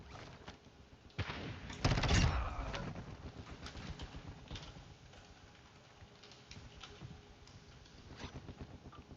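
Gunfire in the DMZ mode of Warzone 2.0, a burst of several sharp shots with a loud blast near the start, followed by scattered fainter pops over ambient game noise.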